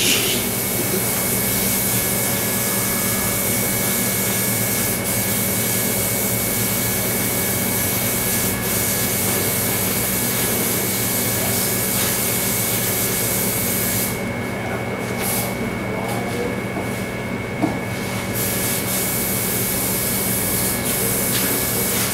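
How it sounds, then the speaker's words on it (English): Aerosol spray adhesive hissing steadily onto printed fabric, a continuous loud, broad spray held close with no pauses for over twenty seconds. "I'm going to spray from this direction so I don't get anybody with overspray"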